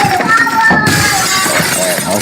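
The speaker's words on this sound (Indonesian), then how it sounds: "Pecah piring, hancur." A plate breaks and shatters with a sharp crash, followed by scattered debris under children's voices and chatter.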